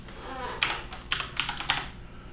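Keystrokes on a computer keyboard while entering a number into a Google Sheets spreadsheet: four or five distinct clicks in an uneven rhythm, close and moderately loud over a low steady hum.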